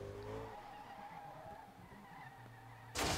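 A Bugatti Veyron drifting in the game SLRR slides with its engine humming low while the tires skid and scrub continuously, ending in a sudden loud burst of noise at close range.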